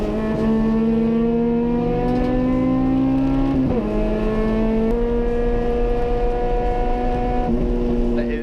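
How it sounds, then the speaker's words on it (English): A 1992 Honda Civic Si race car from the Grid Life Touring Cup drives with a loud, steady engine drone that climbs gradually in pitch and dips briefly at gear changes. "this is my 1992 Honda Civic Si that I race wheel to wheel in Grid Life Touring Cup"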